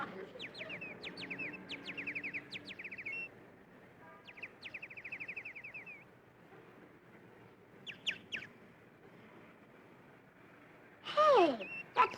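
Bird calls, probably a real bird outdoors near a boy's alley hideout, come in short chirping bursts spaced across the clip, with a louder sweeping call near the end.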